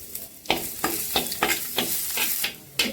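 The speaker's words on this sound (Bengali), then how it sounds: "এই ঘিয়ের মধ্যে কারি পাতা আর রসুন কুচিটা ফোড়ন দিয়ে দেবো" Curry leaves, chopped garlic and ginger crackle in hot ghee, a loud sizzle broken by repeated stirring scrapes every few tenths of a second, close and without talk.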